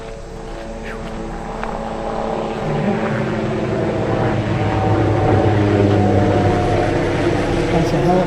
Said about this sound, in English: Helicopter just went over.